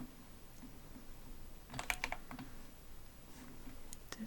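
Soft computer keyboard typing while coding, a short cluster of quiet clicky keystrokes in the middle plus a few faint taps later, low in level over a steady background hiss, no voice.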